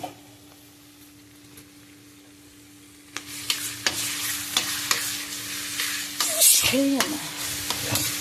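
Tomato and onion frying together in a pan with ginger-garlic paste for chilli chicken: a quiet start, then a louder close sizzle with repeated stirring scrapes and clinks of a spoon against the pan.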